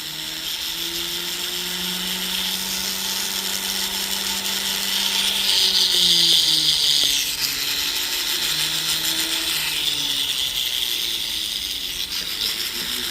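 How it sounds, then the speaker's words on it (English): Rotary silicone wheel grinding a metal ring shank during ring sizing, a steady high whirring hiss with slowly shifting motor pitch and brief scraping contact, close and continuous with no talking. "So I'm making it even with the silicone wheel"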